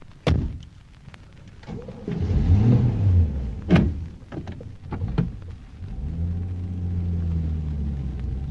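A car in a radio drama: nearby door thunks and clicks give way to a rising engine rumble that settles into a steady idle, with no voices.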